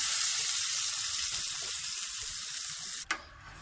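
Chili garlic chicken sauce sizzles steadily in a pan, a loud, close hiss of frying that runs continuously before cutting off abruptly near the end, with a brief clatter afterward.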